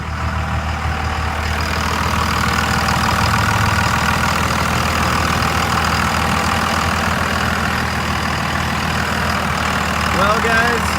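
A 1999 Dodge Ram 3500 dually with the 5.9 engine idles steadily, a loud continuous low rumble with a constant hum throughout.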